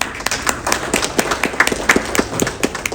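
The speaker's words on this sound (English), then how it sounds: "Can we all start with a round of applause?" Sparse, scattered clapping from an audience at a traditional medicine conference, a handful of hands striking in loose, uneven rhythm, fairly close and moderately loud with no voices over it.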